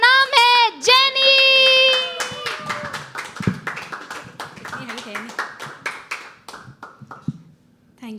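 Scattered hand claps and taps from an audience at a live poetry open mic, after a voice sings sustained notes at the start; the claps are uneven and moderately close.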